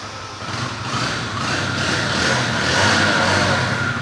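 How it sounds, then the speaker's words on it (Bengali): A Suzuki Hayate 100cc motorcycle engine runs steadily with a low, even hum and soft mechanical whir, rising slightly in level partway through, with no voices. "ইঞ্জিনের সাউন্ডটা খুবই ভালো হ্যাঁ হান্ড্রেড সিসি বাইক"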